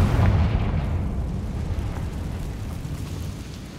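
Confringo fire spell explosion in Hogwarts Legacy, a loud low booming blast that rolls into a long decaying rumble, close and dominant, with no talk over it.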